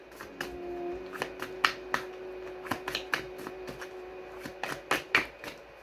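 Tarot cards being tapped and flick-shuffled up close: a quiet run of crisp, rapid paper snaps and riffles in irregular bursts, with no speech.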